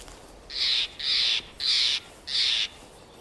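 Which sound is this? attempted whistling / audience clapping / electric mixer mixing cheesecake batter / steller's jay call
steller's jay call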